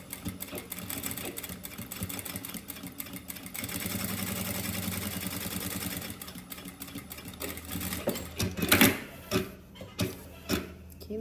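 Sewing machine stitching down the middle of a fabric bag organizer, a steady run of rapid needle clatter that gives way to a few louder, separate mechanical thumps near the end.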